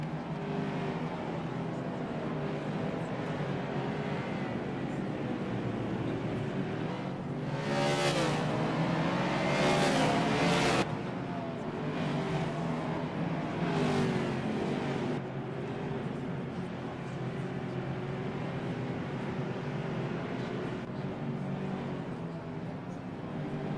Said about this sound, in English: let's take a lap and let's listen to these cars as they go by